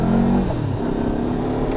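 Lexmoto LXR 380 motorcycle with a 6-speed gearbox under way on a road, its engine droning steadily and loudly throughout with a slight rise in pitch early on, and no speech.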